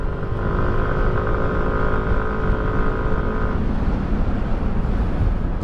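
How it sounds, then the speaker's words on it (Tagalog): Heavy wind roars steadily across the microphone of a Yamaha Nmax V3 Standard scooter on the move, a loud, unbroken rush mixed with engine drone, with no talking. "Lakas ng hangin."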